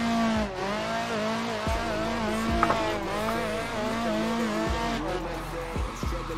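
A Chevrolet Chevette drifts in the racing game Assetto Corsa, its engine droning and rising steadily while tires squeal and skid through long slides, with occasional talk over it.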